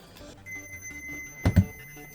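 A multimeter continuity beep sounds briefly, two short beeps in quick succession, during continuity checks on an Xbox 360 Slim DG-16D4S drive, over a faint background hum.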